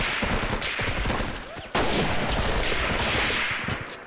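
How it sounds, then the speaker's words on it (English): Gunfire in a Vietnam War video game mod set in a forest firefight, dense overlapping rifle and machine-gun bursts crackling continuously, loud and close, with a sudden jump in volume midway. "A constant firefight in this forest."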